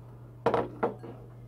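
Shell-shaped plates knocking together as they are handled, two sharp close clinks a moment apart followed by a softer third tap, over a steady low hum.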